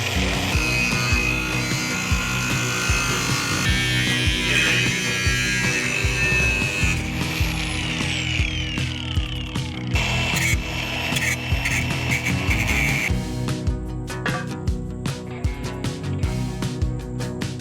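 A power saw makes a miter cut through wood at a mountain cabin build site, a loud continuous rasping whine with shifting pitch across the cut, heard alone and close up without talk.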